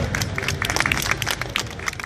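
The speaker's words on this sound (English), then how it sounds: "If you can't do this, try clapping, it's cool." A street crowd gathered around a performer in London claps along, with scattered, uneven hand claps over outdoor bustle for a couple of seconds.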